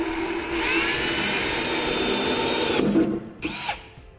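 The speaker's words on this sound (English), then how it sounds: "going to take my drill and somewhat of a small drill bit for a pilot hole, and I'm going to drill into the bed" A power drill with a small bit whines loudly as it bores a pilot hole into the bed of a 2018 Chevrolet pickup truck, running steadily for nearly three seconds before stopping, then giving one short final burst.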